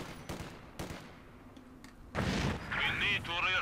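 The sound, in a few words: HE grenade explosion in the video game Company of Heroes 2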